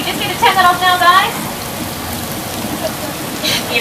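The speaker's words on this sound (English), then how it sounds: "It's coming from sprinkler systems, shooting water into the air and falling down." Artificial rain from sprinkler systems that shoot water into the air so it falls back down, a loud, steady patter close by, with a brief voice-like tone early on.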